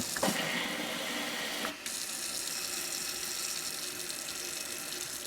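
Tap water runs steadily into a vessel for watering houseplants, with a continuous splashing rush and a brief shift in tone partway through. Nobody speaks.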